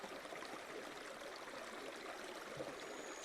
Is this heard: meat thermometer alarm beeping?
no